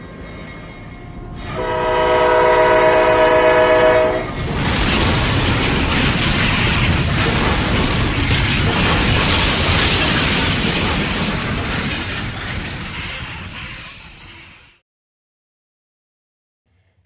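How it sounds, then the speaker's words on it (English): A loud train horn blasts, then a long, heavy roaring crash of rumbling metal as two freight trains collide head-on at around 60 miles per hour, slowly fading out into silence. "Train 72G crashed head-on into 28X at around 60 miles per hour."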